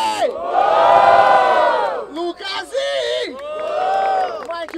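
A crowd at a rap battle in Barueri, São Paulo, cheering and whooping in two loud surges separated by a short dip, yells and shouts layered over each other, close and energetic.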